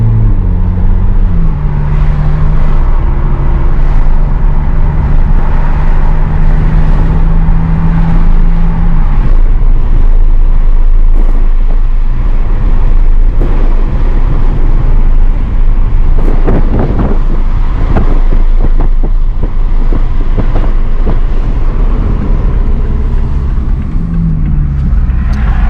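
Wind buffeting roars inside a Toyota MK5 Supra cabin at around 40 to 50 mph, a loud continuous low rumble of pulsing air pressure with road noise, steady throughout and building in intensity.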